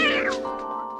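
A cat in a scene from the film Breakfast at Tiffany's gives a single loud, close meow lasting about a second, its pitch sliding downward and trailing into a sustained tonal whine, with no talking over it.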